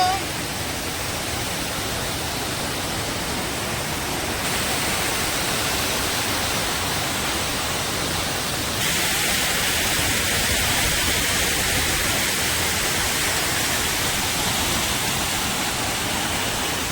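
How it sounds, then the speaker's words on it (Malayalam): The Bhoothakuzhi waterfall at Muttam gives a steady, dense roar of falling water, close and constant throughout with no break. "മുട്ടത്ത് ഇങ്ങനെ ഒരു വെള്ളച്ചാട്ടം ഉണ്ടെന്നുള്ളത് നമുക്ക് അറിയില്ലായിരുന്നു"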